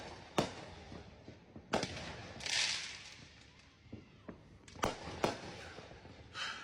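Fireworks go off at a Fourth of July block party on a rainy night. Several sharp bangs and crackling bursts ring out at irregular intervals, some louder and some more distant, over a quiet background.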